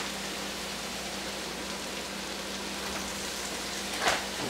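Floured deer meat browns in a pan, a soft steady sizzle like fine hiss that holds evenly throughout, with one brief louder crackle near the end.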